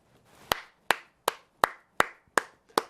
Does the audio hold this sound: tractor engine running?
no